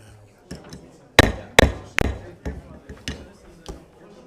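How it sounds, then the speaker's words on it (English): A gavel raps on a wooden surface at a local agency commission meeting, a series of about ten sharp knocks, with three loud strikes in the middle and lighter taps around them, heard near and clear. "I hate to use that hammer, Sean."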